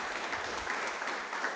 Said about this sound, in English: Can you give another round of applause for Rachel?